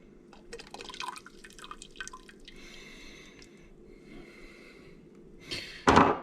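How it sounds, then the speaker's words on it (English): A bubbly yeast mixture is poured into lemon juice while making sima, a fermented Finnish citrus soft drink, giving soft trickling and dripping liquid sounds that end in a louder splash. "And then I'm going to pour in the yeast"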